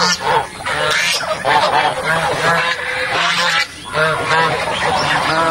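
A dense chorus of domestic geese honking nonstop in a village, many birds calling over one another close by, loud and overlapping throughout.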